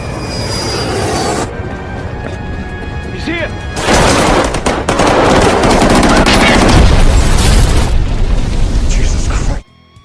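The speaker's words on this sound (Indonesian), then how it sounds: "memicu baku tembak di sekitar landasan pacu" Gunfire exchange around an airport runway in an action film: loud, dense bursts of shots and booms layered under a film score, growing heavier midway and then cutting off abruptly near the end.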